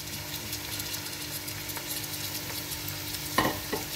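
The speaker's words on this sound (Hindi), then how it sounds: "इसको अच्छी तरह से हम करते हैं फ्राई।" Boiled chicken pieces and carrots fry in a pan with a steady, even sizzle throughout, close and moderate, with a couple of brief utensil scrapes near the end and no talking.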